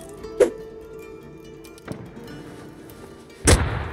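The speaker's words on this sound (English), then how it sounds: "Oh, I killed one with a frag." Muffled thuds from a frag grenade going off in Rust Console Edition, with one sharp burst early, a faint thump midway and a louder boom near the end, set apart by stretches of quiet.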